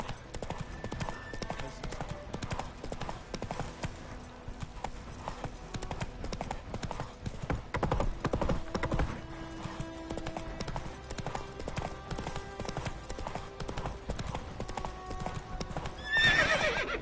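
Roach the horse in The Witcher 3 on PS5, a rapid clip-clop of galloping hooves running steadily throughout, with a brief whinny and scattered game sounds, a voice occasionally heard.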